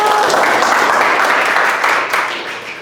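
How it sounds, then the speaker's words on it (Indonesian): Lively applause from a classroom group of nursing students, steady and dense for nearly three seconds, then easing slightly toward the end. "Kelompok 2 tepuk tangan yang semangat dulu."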